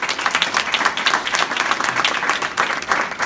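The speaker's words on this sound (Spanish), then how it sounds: "Denle un aplauso fuerte a Dios." Congregation applause during a Spanish-language church service on prayer and fasting, a dense steady burst of many hands clapping close by, sustained throughout with no talk over it.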